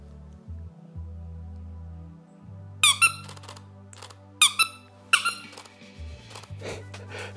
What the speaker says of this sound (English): then if I just used a squeaker,